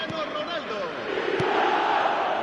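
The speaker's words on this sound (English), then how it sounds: "Even some of the opposing fans are clapping that." A stadium crowd in the eFootball video game makes a dense, continuous wash of applause and cheering, loud and unbroken for the short stretch, with a commentator's voice faintly mixed in.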